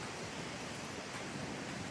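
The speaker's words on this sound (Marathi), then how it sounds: "आणि परत आम्ही आमच्या प्रायव्हेट बीचवर आलेलो आहे." Soft, steady surf from ocean waves washes on a private beach at Vengurla, a faint, even wash of noise with some wind and no voices.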